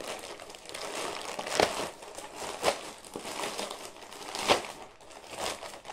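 Crinkly plastic packaging being unwrapped from a mini printer, soft rustling with several sharper crackling bursts, close and fairly quiet.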